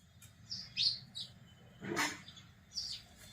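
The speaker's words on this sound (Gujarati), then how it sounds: "હવે નાવા માટે આવી ગયું ચકલિયું" Sparrows chirp in short, bright bursts, a few quick calls spaced apart against a quiet background, as they come to drink and bathe in water.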